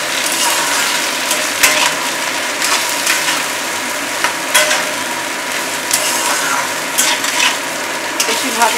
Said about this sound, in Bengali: বেশি ভাজবো না, হালকা ভাজবো।